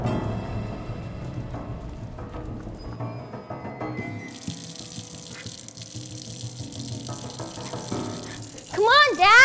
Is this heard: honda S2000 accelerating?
no